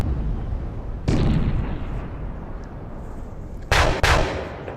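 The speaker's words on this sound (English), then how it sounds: "I take a big broadside from my leading frigate." A frigate's cannon broadside in the Napoleon Total War naval battle game: a heavy boom, then a stretch of rumbling sea-battle ambience, then two more loud, close blasts in quick succession.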